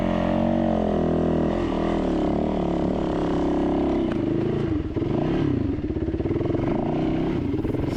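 Off-road motorbike engine labouring loud and close with a steady drone and shifting revs while climbing a steep, rocky, chunky trail toward Chuckwalla Peak, with clattering from the rough ground.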